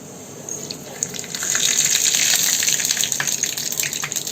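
Mustard seeds dropped into a spoonful of hot oil for a chutney tempering crackle and sizzle with a bright, close hiss that swells after the first second and keeps up a dense spattering with no talking.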